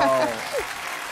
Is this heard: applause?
yes